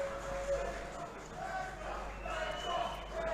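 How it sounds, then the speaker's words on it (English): A crowd at a pool tournament in Bangkok cheers in the background, a distant rising and falling roar of voices at a team event with shouts that come in swells. "I can hear Bangkok cheering in the background"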